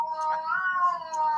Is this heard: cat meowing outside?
yes